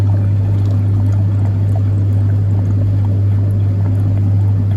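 A Beko heat pump tumble dryer's internal pump pushes water through, giving a loud, steady low hum under a continuous watery rush that never lets up.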